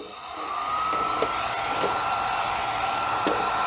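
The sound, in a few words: hair dryer running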